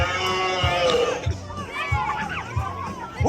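Children in a crowd at a farm puppet show imitate a cow, a loose chorus of drawn-out mooing voices and shouts over a steady thumping background beat.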